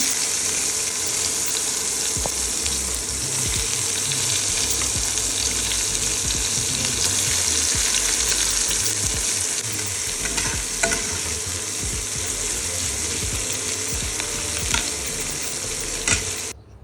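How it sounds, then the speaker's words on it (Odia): Onions sizzle steadily in hot oil in a home kitchen after fish frying, a continuous close hiss with occasional clinks and stirring scrapes, no talking. "ଏବେ ଏଠି ପିଆଜ ଭାଜି ହେଇଗଲା"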